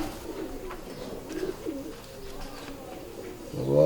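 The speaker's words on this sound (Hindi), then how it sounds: "वाह जी वाह, बंद आंख का कबूतर माशाल्लाह" Soft pigeon cooing from a fancy pigeon comes in low, murmuring phrases against a quiet background, fairly close but gentle.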